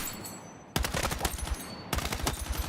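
Full-auto gunfire in Battlefield REDSEC rattles out in two loud, rapid bursts of closely spaced shots, the first starting abruptly after a quiet moment and the second following with almost no pause.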